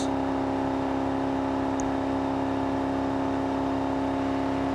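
A car engine runs on a dynamometer, holding a steady, drawn-out whirring drone with strong tonal hum while the revs climb very slowly; loud and continuous with no talk.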